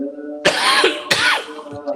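A cough in a university lecture hall, two sharp bursts close together at close range, with faint room noise between them.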